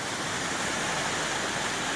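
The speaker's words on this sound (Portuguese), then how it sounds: "Estamos aqui nessa cachoeira aqui, ó." Steady, dense roar of a waterfall in the Brazilian backcountry at night, a continuous broadband rush of falling water that stays loud and even throughout with no other sounds.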